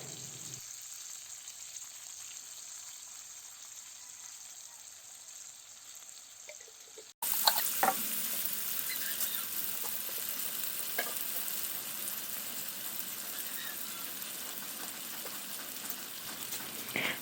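Chicken breast glazed with pure honey sizzles and fries in a pan, a steady close crackle that jumps abruptly louder partway through and continues with light stirring, no voices.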